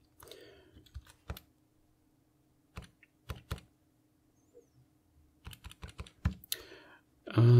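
Keys clicking on a Casio FX-850P pocket computer keyboard, heard as scattered bursts of sharp taps with pauses between them, close and fairly quiet, ending in a louder blip.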